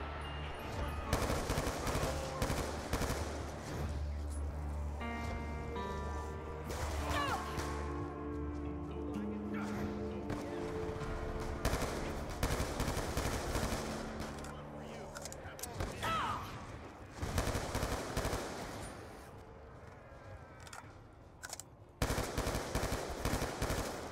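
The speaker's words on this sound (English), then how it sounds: "Yes, I'm shooting from the hip." Rapid bursts of hip-fired gunfire in the Call of Duty Black Ops 2 Zombies video game crackle in quick runs throughout, mixed with game music and effects, while a player talks intermittently over the action.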